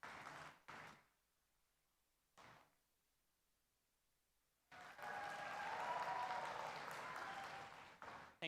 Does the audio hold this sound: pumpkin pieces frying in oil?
no